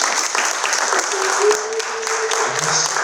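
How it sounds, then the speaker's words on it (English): Conference audience applauding in a steady, dense wash of clapping that runs the whole time, fairly loud and close, with a voice briefly audible underneath. "Let's clap for Stuart."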